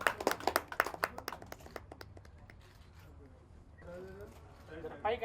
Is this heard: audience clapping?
yes